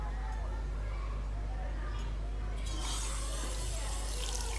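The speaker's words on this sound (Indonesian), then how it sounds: "Kita coba nyalakan airnya ya." A bathroom tap in a hot spring villa runs warm water in a steady, close, full rush that grows brighter and hissier partway through, with a voice speaking over it.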